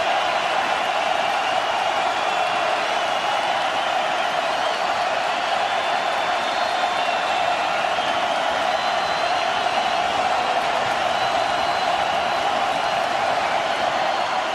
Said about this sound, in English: listening to a very loud and boisterous crowd